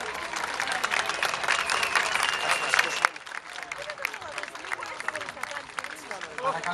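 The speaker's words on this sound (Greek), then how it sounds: "Χειροκροτήστε τους!" A crowd applauds at the 2012 Acropolis Rally award ceremony as the third-placed Ford Fiesta RS WRC crew is honored. Thick, loud clapping drops abruptly to a thinner, scattered patter under crowd murmur.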